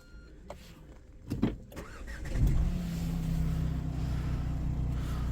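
A Renault Captur diesel with automatic transmission starts at the push of a button: a few clicks and a short cranking burst, then the engine catches and settles into a steady, fairly quiet idle.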